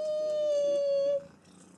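A male Norwegian Forest cat gives one long, sustained, tonal meow, close and clear, held for about a second before breaking off into quiet.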